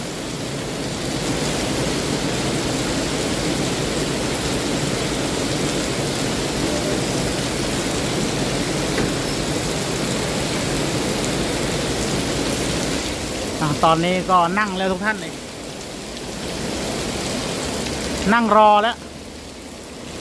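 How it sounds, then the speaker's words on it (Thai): Heavy rain pours down in a steady, dense hiss, close and unbroken, while someone talks over it and brief sharper sounds rise near the end. "ฝนเมื่อไรจะหยุดตก"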